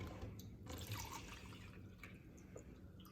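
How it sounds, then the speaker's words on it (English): Water pours from one container back into a purple plastic one as a faint splashing trickle with small drips, quiet and continuous. "Now I'm gonna pour this water back into the purple container."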